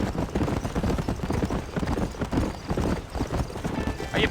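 A horse gallops in Red Dead Redemption, fast rhythmic hoofbeats thudding loud and close throughout, with brief whinny-like sounds and faint background noise over the steady clip-clop.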